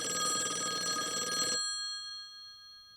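An old retro telephone bell rings loudly for about a second and a half, a dense metallic trill with steady tones, then cuts off and leaves a faint decaying ring.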